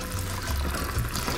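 Water pours and splashes steadily into caustic soda as it is stirred for homemade soap, a close, continuous liquid rush lasting just over a second.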